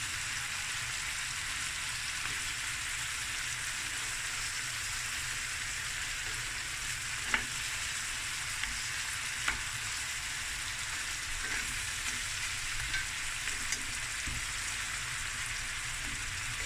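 Prawns fry in melted butter in a pan with peas and carrots, giving a steady, even crackling sizzle throughout, with a couple of faint utensil taps and no talking.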